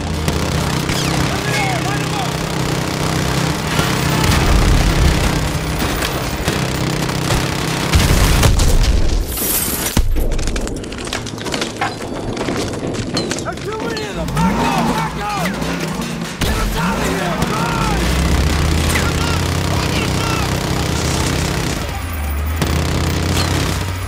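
Call of Duty: Modern Warfare 2 Campaign Remastered combat: constant loud gunfire, machine-gun bursts and booming explosions over a continuous rumbling battle bed, with shouted voices mixed in throughout.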